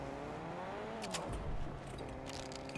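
A car drives past in the Fortnite video game, a steady engine drone with a whirring, rising tone that holds at moderate level for a few seconds, heard alone without talk.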